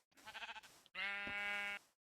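A Minecraft sheep bleats twice, close and clear: first a short wavering baa, then a longer, steadier bleat after a brief pause, with nothing else in the background.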